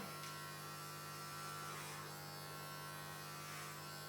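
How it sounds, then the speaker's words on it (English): Electric hair clippers buzz steadily while cutting hair, giving a continuous faint electric hum with slight rises as the blades move through the hair. "just let the clippers do the work"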